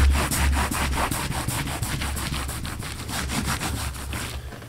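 Wet wool felt is rubbed by hand over a resist for a witch hat, producing rapid, even back-and-forth swishing strokes repeated steadily throughout, close and fairly loud with no talking.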